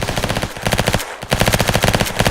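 Rapid machine-gun bursts in a VR video game, loud and close, firing in fast rhythmic volleys with a brief pause in the middle before the shooting resumes.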